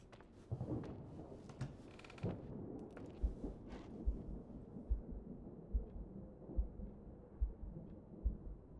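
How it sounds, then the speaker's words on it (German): A slow, steady heartbeat thuds low and deep in the horror video game The Suicide of Rachel Foster, rising out of a rumbling ambient bed with evenly spaced beats and no talk. "Herzschlag?"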